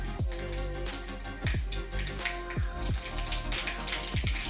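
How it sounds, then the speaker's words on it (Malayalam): Mustard seeds spluttering in hot oil with a couple of cut chillies for a lemon pickle, a dense, close crackle of rapid pops and sizzling with sharper bursts every second or so, no voices. "കട കടു പൊട്ടുന്ന ശബ്ദം കേട്ടല്ലോ"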